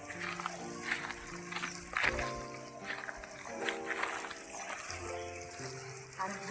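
Water soaks two vegetable garden beds ahead of seed sowing, a steady hiss of running water throughout with louder tonal sounds and a voice-like layer sitting over it.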